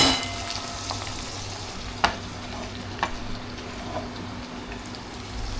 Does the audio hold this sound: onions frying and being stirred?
yes